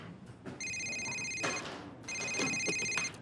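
A mobile phone rings in two bursts of bright electronic ringtone, close and fairly loud, with a short gap between them, alongside brief clatter from movement.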